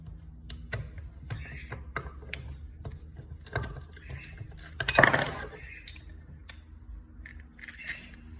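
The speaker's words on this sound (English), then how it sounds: "This one unbolts again." Metal tools clink and a bolt rattles as the die of a BB badge maker is unbolted, a series of small close taps and clicks with a brief louder metallic jangle midway.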